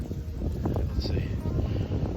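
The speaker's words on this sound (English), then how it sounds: "It's very windy." Steady gusting wind rumbles and buffets against the microphone at a campground in West Branch State Park, a low, continuous roar with faint rustling underneath.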